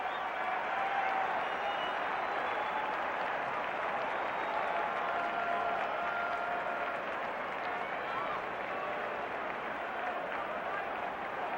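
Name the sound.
baseball crowd applauding Milton Bradley's home debut as a Cub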